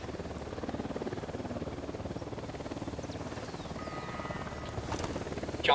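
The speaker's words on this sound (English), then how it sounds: "Chopper inbound." A helicopter in the video game Ghost Recon Wildlands gives a steady low rotor thrum that holds unbroken throughout, fairly quiet and constant, with no voice.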